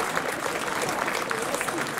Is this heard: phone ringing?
no